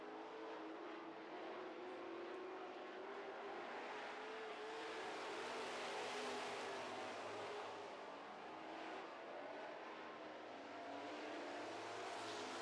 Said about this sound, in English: Jamie Vernaus with a run on the number 17 down the back chute.